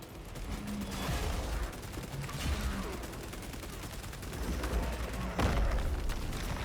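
Steady, dense gunfire in Space Marine 2 during a fight with a Trygon, continuous bursts of shots and booms layered over a busy battle din.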